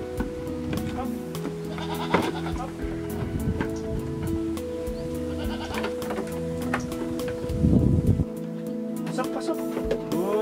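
Several goats bleat repeatedly, some close and loud, others farther off, with overlapping cries and a few bumps and footsteps around them.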